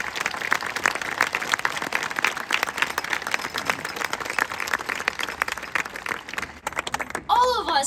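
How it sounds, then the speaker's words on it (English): A graduation audience for a high school class of 2022 claps steadily in dense, sustained applause, ending with a brief voice at the close. "Give everyone a big round of applause for all the accomplishments of the class of 2022."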